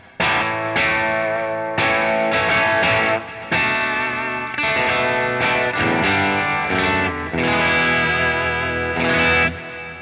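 Electric guitar through a Fishman Fluence pickup on its vintage PAF voicing, playing loud, sustained chords and notes in phrases with brief breaks between them, with no voices.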